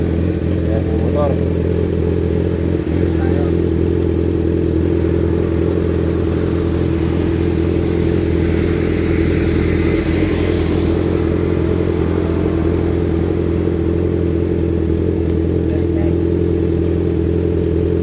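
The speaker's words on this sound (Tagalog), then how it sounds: "Ayan yung motor." A motorcycle engine runs steadily nearby, a continuous low rumble that swells and fades slightly, with people talking over it throughout.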